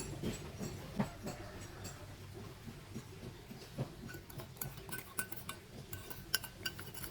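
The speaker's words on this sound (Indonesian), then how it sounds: "Aduk semua bahan sampai tercampur rata dan tidak ada lagi tepung yang terlihat" Donut dough ingredients, dry flour mix with yeast solution poured in, being stirred together in a bowl, soft quiet scraping with scattered small clinks of utensil against the bowl.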